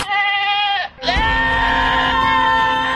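Goat gives two loud, close, strained bleats, a short one followed by a longer wavering cry after a brief pause, with no talking.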